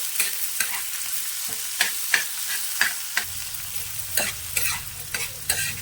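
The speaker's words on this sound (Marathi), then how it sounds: "याच्यावर ना बारीक चिरलेला चांगला कांदा घालायचा" Chopped onion sizzles and crackles in hot oil in an iron pan, with repeated sharp scraping stirs at an irregular rhythm, close and fairly loud.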